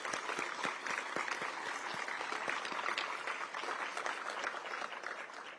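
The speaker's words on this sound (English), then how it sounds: "So just a round of applause for that." Applause from the crowd at the ceremonial groundbreaking for the Long Bridge rail project, a steady wash of many hands clapping at moderate level, continuous throughout and easing slightly at the end.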